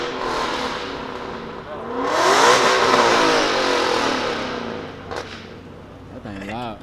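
A Nissan GT-R R35 engine revs loudly at a car meet, swelling to a peak before easing off, with people talking over it throughout.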